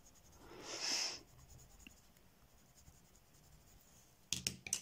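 Colour pencil shading and blending strokes rub on paper for about a second, a soft close scratchy hiss, followed by quiet and then a few brief sharp taps near the end.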